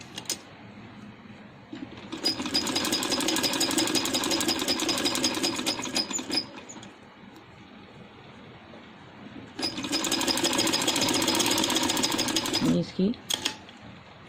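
A sewing machine stitches a dress suit in two long, fast, rattling runs separated by a quiet pause, close and clear, with a brief spoken word.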